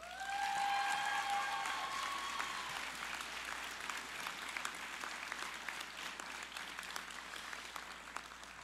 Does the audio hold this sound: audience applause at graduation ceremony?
yes